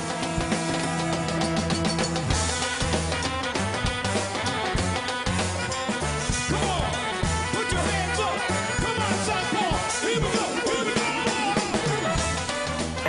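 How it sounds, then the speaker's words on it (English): A New York bhangra funk band plays continuously, with punchy rhythmic drums, horns and layered instruments driving a lively, dense groove throughout. "A Bhangra funk band from New York."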